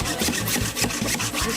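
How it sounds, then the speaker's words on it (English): A saw is pulled back and forth through a log on an outdoor horror-movie set, giving a steady rhythmic rasp of roughly two strokes per second, close and fairly loud, with no voices. "here's Miles sawing a log"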